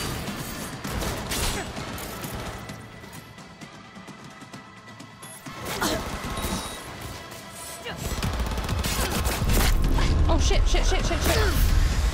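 Gunfire in Cyberpunk 2077: Phantom Liberty, in a city market: scattered shots and mechanical gun clatter, louder toward the end, mixed with game noise and some voice.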